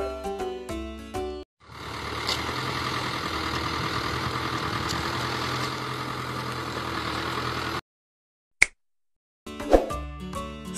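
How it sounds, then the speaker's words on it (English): A tractor engine idling in a steady, loud, even rumble for about six seconds, with short bursts of bright musical notes before it and after it. "Tractor. This is tractor."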